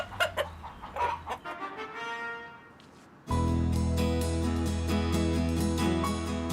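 Hens cluck and murmur nearby, then a loud continuous hum of machinery abruptly starts and drowns out the birds.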